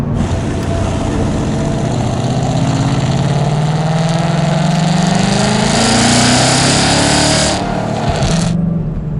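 Procharged 2015 Mustang GT with a centrifugal supercharger, a loud engine rising in pitch as it revs, with a rising whine and hissing blow that cuts off sharply near the end.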